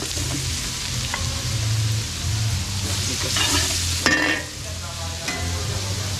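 Garlic and onion frying in a pan during large-batch catering cooking in Masantol, Pampanga, with a dense, close sizzle and occasional stirring scrapes, and a louder burst of crackle partway through.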